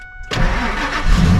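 A Ford truck engine starts after its battery is charged: a short cranking burst, then the engine catches and runs loud and rough close by, with no talking.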